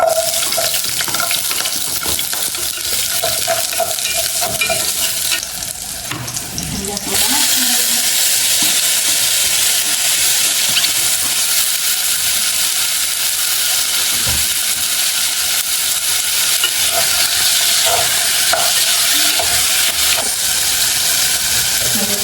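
Chopped onion frying in a small amount of oil in a pan, a loud, steady broadband sizzle running throughout with a brief dip and change partway through, no talk over it.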